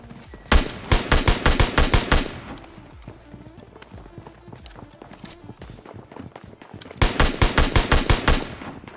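Rapid automatic gunfire in a battle royale video game fight at Pleasant Park: a loud burst of evenly spaced shots, a quieter stretch of footsteps and faint clatter, then a second loud burst.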